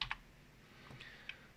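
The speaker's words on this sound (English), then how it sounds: "hit delete in your keyboard." Faint clicks of computer keyboard keys, a pair of quick taps at the start, then a couple of scattered presses, recorded close in a quiet room with no speech.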